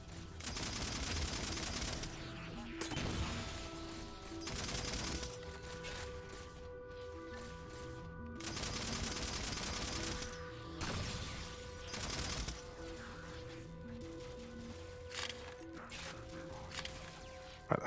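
Halo 4 gunfire, including a needler weapon, rattles in rapid bursts and fusillades alongside mechanical clanks and impacts, loud and nearly continuous throughout the firefight.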